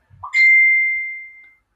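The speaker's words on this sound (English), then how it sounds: "If you hear pings in the background, that's just my classmates talking to each other." A single computer chat notification ping sounds once, a bright sustained electronic tone about a second long that fades out, close and alone after a faint low bump.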